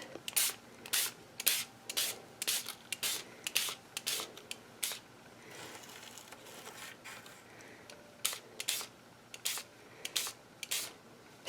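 Spray bottle spritzing homemade milky shimmer mist onto ink, a run of short, close, quiet bursts in quick succession, a brief pause, then more rapid spritzes.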